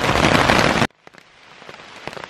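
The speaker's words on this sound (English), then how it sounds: "It's pouring rain" Heavy rain pours down in a dense, loud wash during a thunderstorm, then cuts off abruptly, leaving scattered faint drips and patter.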